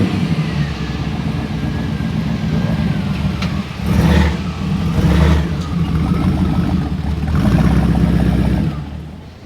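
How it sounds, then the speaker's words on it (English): Several cars at a Big Bear Lake car show roll in with steady engine rumble, swelling as engines rev up near the mic, with a few louder bursts of acceleration over continuous low idling. "the cars are trickling in."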